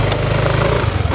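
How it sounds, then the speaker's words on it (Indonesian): A motorcycle ridden through city streets gives a steady, loud engine drone with low rumbling harmonics throughout, no talking over it. "Jadi kita mau on the way naik motor ini ya, gimana rasanya."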